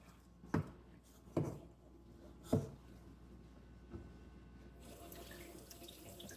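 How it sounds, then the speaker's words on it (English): Water runs from a kitchen tap into a sink as hands are wetted while kneading sandwich bread dough, with three sharp thumps early on and the faint flow swelling into a steadier hiss toward the end. "I'm just wetting my hands in some water over there."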